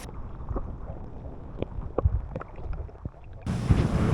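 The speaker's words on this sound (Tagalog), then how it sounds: "Lumalakas na yung hangin." Strong wind gusts by the water in the Philippines, between Roxas and Guimaras, as rain approaches, buffet the microphone with a low, rumbling roar, with a louder surge in the final second.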